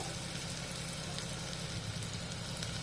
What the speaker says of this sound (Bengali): হালকা একটু তেলে মশলাটা আমি নাড়িয়ে নেব।